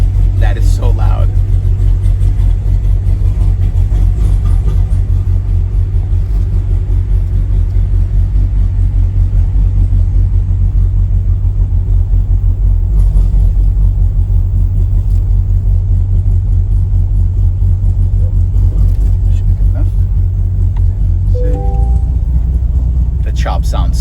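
A tuned Chevrolet C8 Corvette with a Bad News Racing tune rumbles steadily and loudly at close range, its deep uneven idle carrying a choppy lope throughout, with a faint brief rise near the end.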